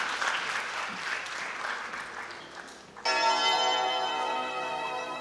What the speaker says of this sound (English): So with a huge round of applause, we'll welcome YPS Rawatji.